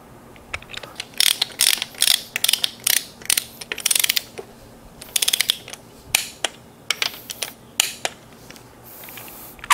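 Ratchet-style torque wrench clicking as it tightens connecting rod cap bolts with ARP assembly lube during a 5.9 Magnum engine build, bursts of rapid close ratcheting clicks repeating in short runs with brief pauses, no talk.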